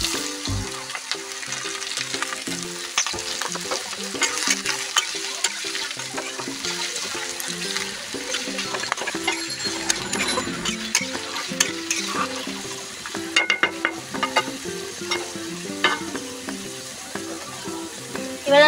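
Mixed vegetables hit hot oil in a kadai for chow mein and are stir-fried, giving a steady loud sizzle broken by frequent scraping and clattering of the spatula against the pan.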